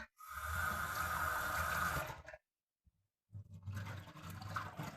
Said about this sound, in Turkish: Buradan da şu pirincimi yıkadım, yıkadım, yıkadım.